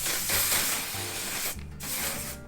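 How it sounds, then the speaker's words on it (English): A few close hissing bursts of mattifying setting spray onto a face, one long spritz followed by shorter ones, with no talking. "I'm going to spray the face yet again"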